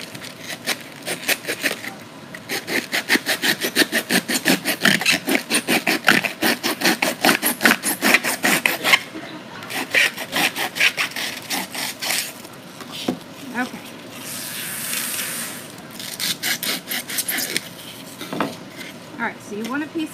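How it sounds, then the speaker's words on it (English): A blade repeatedly scoring a Dollar Tree wooden pumpkin frame, dense back-and-forth scraping strokes in a steady rhythm, close and loud, with brief pauses and some handling noise between passes. "You just want to score it on both sides, get a pretty good score."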